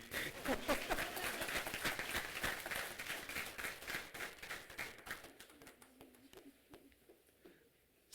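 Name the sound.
graduation ceremony audience clapping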